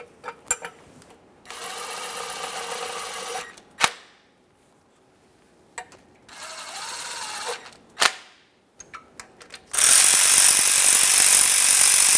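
A ratchet tightens the oil pan mounting bolts on a 1994-1997 Honda Accord 2.2L I4 in two sustained bursts of rapid, close clicking, with a few metallic knocks between them, then a loud steady hiss at the end.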